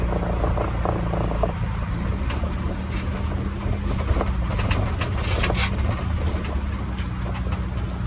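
A car engine, just fitted with a rebuilt carburettor and automatic choke, drones continuously at high revs while driving on the road, with a steady low hum and road noise throughout.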